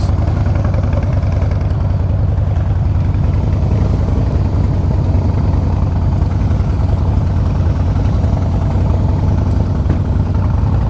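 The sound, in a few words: 2014 Harley-Davidson Breakout FXSB motorcycle engine on test ride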